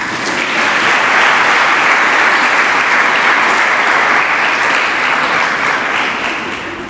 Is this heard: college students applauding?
yes